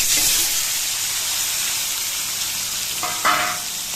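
Hilsa fish pieces go into hot oil in a kadai with cumin seeds and bay leaf. A loud, dense, continuous sizzle fills the whole stretch, swelling briefly near the end.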